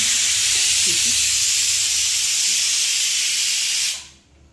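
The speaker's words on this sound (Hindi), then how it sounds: "मैंने ये कुकर चढ़ाया था, इसमें खिचड़ी बन रही है" A pressure cooker on the stove hisses out a loud, steady jet of steam while khichdi cooks, then the hiss fades away quickly near the end.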